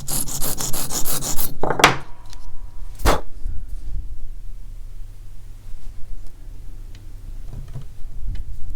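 Rough, rhythmic rasping of hand sanding on wood while inlaying paua shell purfling, steady strokes, close by, with a couple of sharp knocks partway through.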